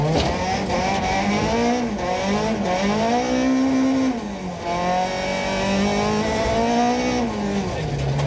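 Rally car engine recorded from inside the cockpit on a special stage of the 1994 Sasol Rally, droning loud and steady as revs rise and fall through gear changes, with brief tyre squeal.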